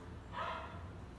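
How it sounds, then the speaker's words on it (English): A single dog bark, faint and distant, rises briefly over steady low background noise in Saigon. "Listen to the dogs bark."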